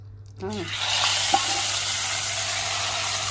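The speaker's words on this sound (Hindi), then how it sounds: "और कढ़ी ने बड़ा जोश मारा, शुर की आवाज़ें आई" Hot oil tempering poured into kadhi curry bursts into a loud, steady sizzle after a brief quiet start, hissing continuously close by with a faint clink partway through.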